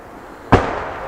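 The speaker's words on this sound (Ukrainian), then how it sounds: "Це зараз ворожий танк працює." Enemy tank firing roughly 1.5 km away on a front line, a single sharp boom standing alone before fading into a low rumbling tail.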